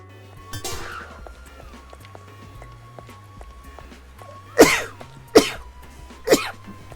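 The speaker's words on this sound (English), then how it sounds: "I've been sneezing a lot tonight." A person sneezes three times in quick succession, each a sharp close burst, over quiet background game music during an evening stream.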